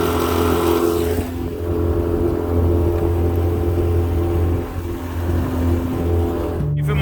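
A sailboat's engine runs continuously at higher RPM during a test drive on the water, a loud, steady close-up motor drone with a low rumbling hum that rises and dips slightly.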